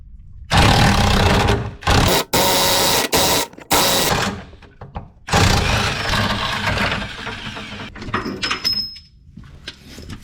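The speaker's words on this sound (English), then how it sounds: "Final bolt is out, and no wonder it fought me." A rusted subframe bolt is worked loose on a Ford Focus with a power tool, which fires in loud rattling bursts separated by short pauses, then trails off into quieter clinks and scraping.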